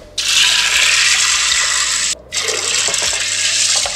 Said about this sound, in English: Next, we need 10 cups of water.